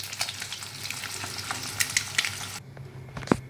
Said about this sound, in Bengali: চলো 5 মিনিট এটা ডিমটা আমি ফ্রাই করে নিই।